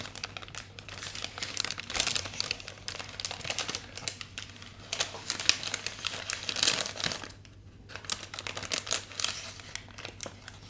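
Close-up crinkling of a sandwich wrapper in irregular bursts, crackly rustles with short quiet gaps, no talking.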